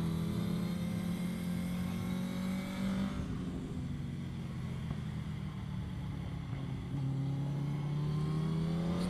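A race car laps Winton Raceway, its engine a steady, close drone that drops in pitch partway through, then climbs again near the end under throttle, with no voices.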